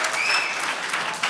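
Sustained applause and cheering from an audience at a public meeting of the Burbank Airport Noise Task Force, loud and dense, with a couple of whistles rising above the clapping.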